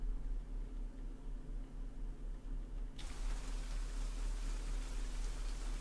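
Rain hisses softly at first, then abruptly swells into a dense, heavy downpour halfway through, steady and enveloping with no voices.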